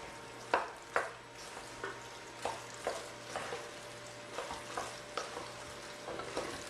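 Cooked pasta being stirred together with a ricotta cheese mixture for baked ziti with Italian sausage, giving soft repeated scraping and squishing strokes at a steady rhythm, close and fairly quiet with a faint background hum.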